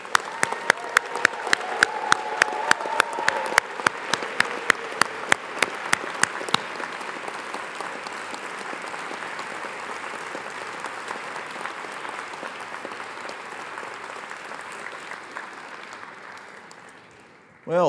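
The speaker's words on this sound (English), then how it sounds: "Let us give this class of 2025 a big collective round of applause." A large graduation ceremony audience breaks into sustained applause, dense and steady, with a few sharp claps standing out early before it slowly fades away.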